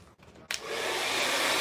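A Revert diffused-heat hair dryer switching on after a short click, then blowing with a steady, loud, close whooshing airflow.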